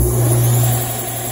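A power sander shapes a ukulele front brace, making a loud, steady motor whine with a sanding hiss that eases slightly toward the end of a brief burst.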